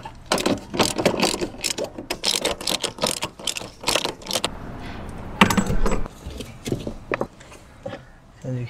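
A ratchet with a 14 mm socket clicks rapidly in bursts while removing seat bolts inside a Honda Fit, with pauses and metallic rattles between runs, close up.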